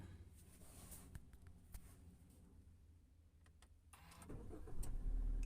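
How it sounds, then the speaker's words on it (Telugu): A Maruti Suzuki Baleno engine cranks and catches near the end, its low rumble rising to a steady idle after a few quiet clicks inside the cabin. "బండి స్టార్ట్ అయిపోయింది"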